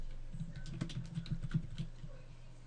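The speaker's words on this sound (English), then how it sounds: "Let me type this out actually for you." Fingers type on a computer keyboard in quick, uneven bursts of soft clicks for about two seconds before the sound fades, quiet and close, with no talk.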